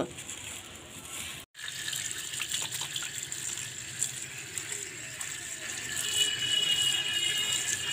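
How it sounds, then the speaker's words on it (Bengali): Leafy beto shak greens washed by hand in water: steady splashing and running water with light rattling, briefly cut off, then continuing and growing a little louder toward the end. "এবার শাকগুলোকে খুব ভালো করে ধুয়ে নেব।"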